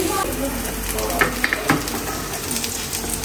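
Aloo tikki coated in cornflour frying in a pan, a close, steady oily sizzle with a few soft clicks and scrapes from the pan.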